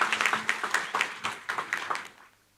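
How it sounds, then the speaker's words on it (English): An audience applauds to welcome an adjudicator onto the dais at a parliamentary-style debate event, with a burst of dense clapping that holds steady for about two seconds and then fades out. "Please welcome him with a huge round of applause."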